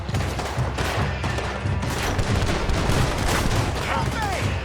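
Dense gunfire in a Red Dead Redemption 2 shootout, rapid overlapping shots and booms crackling continuously and loudly throughout, with voices shouting underneath.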